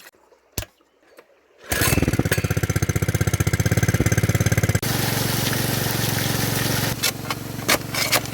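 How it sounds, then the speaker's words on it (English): A gas-powered high banker pump for gold prospecting at the edge of a stream, starting up after a few quiet clunks, then running loud and close with a rapid chugging engine rhythm, settling into a steady roar mixed with gushing water. "We're gonna turn that high banker on and we're gonna get digging."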